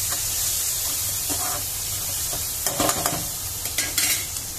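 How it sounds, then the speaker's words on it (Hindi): Chopped onions fry in oil for a masala, sizzling loudly and close, with bursts of stirring and scraping in the pan toward the end and no voices. "ये मसाला मेरा प्याज भून के हो गए तैयार"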